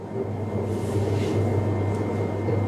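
An oil extraction press pressing prickly pear seeds runs with a steady mechanical hum and whir, constant and moderately loud, with no talk over it.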